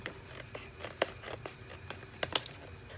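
Scissors trim fabric in a quick series of crisp, close snips, about a dozen cuts in a few seconds with soft rustling of cloth between them, and no speech.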